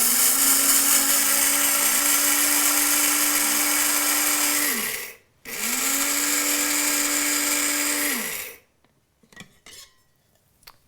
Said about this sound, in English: we're just going to use a little coffee grinder here to grind the flaxseed